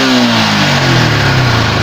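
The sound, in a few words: motorcycle engine revving after ECU tuning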